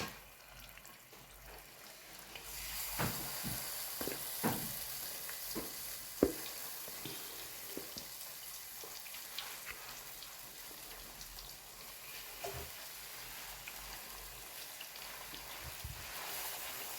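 Puthiyappila kora fish frying in hot coconut oil in a pan gives a steady, close sizzle with occasional sharper pops and crackles, heard alone without talk.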